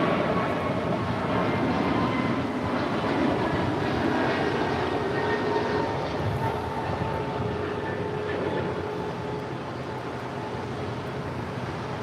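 A Lufthansa Boeing 747 taxiing at LAX gives off a steady, loud jet engine roar and whine that holds evenly throughout, with no voices.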